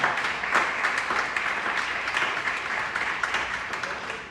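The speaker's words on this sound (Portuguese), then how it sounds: "Aplauda o Senhor com o seu melhor." A church congregation applauds during an evangelical service in Rio de Janeiro, a steady dense wash of many hands clapping at close range that holds for several seconds with no talk over it.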